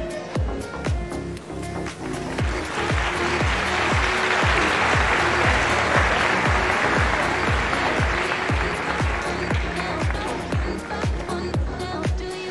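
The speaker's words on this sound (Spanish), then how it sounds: "Un aplauso para Ecuador y para las siete candidatas que acabamos de ver" An audience applauds at the Reina Internacional del Café 2020 coffee queen pageant, steady clapping swelling in the middle and easing off, with a low rhythmic thump of music beating underneath.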